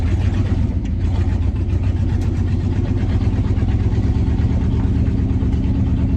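A 1965 Acadian Beaumont's engine runs steadily after years of neglect, a loud, continuous low rumble with an even idle-like drone and slight fluctuations throughout.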